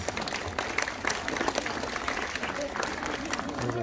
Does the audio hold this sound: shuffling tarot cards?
no